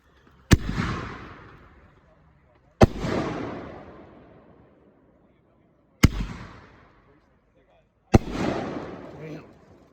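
A Pyro Demon Firestorm 500-gram aerial firework goes off outdoors in four loud, sharp bursts spaced a couple of seconds apart. Each burst is followed by a long, fading crackle and rumble.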